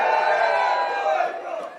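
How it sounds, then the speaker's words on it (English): A block party crowd screaming together on a count of three, a loud, dense burst of many voices holding briefly and then fading. "On the count of 3, let me hear you scream."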